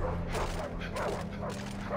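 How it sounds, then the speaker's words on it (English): Dogs bark and yip in the Far Cry 3 video game, several quick barks mixed into dense, steady game noise of fire and ambience, fairly close and moderately loud. "Dogs are like having a battle over there."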